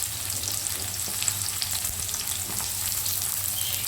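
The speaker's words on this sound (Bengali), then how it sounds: "পেঁয়াজ কুচিটা দিয়ে খুব ভালো করে আমি একটু মিশিয়ে নেব" Chopped onion, garlic and green chilies fry in hot oil in a pan for a Bengali kalmi saag and potato dish, giving a steady, close sizzling hiss with a few small crackles and no talking.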